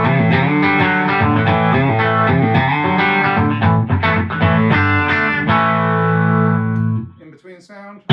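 Electric guitar with a Harley Benton Fusion-3 HSS, bridge pickup selected, tone slightly rolled down, playing a continuous loud distorted riff of chords and notes that rings out and fades near the end.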